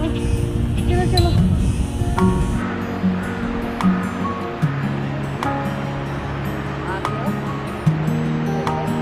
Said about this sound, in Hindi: सो ये नदी वाला एरिया जहाँ पर टैक्सी स्टैंड है उसके पास में ही है